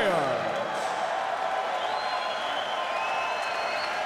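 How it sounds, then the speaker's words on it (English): Arena crowd applauds two middleweight fighters after a bare-knuckle bout, a steady wash of distant clapping and cheering that carries evenly throughout. "let's have a round of applause for these two middleweight warriors"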